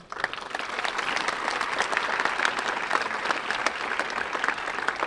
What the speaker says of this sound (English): So let's give a big applause to them, too.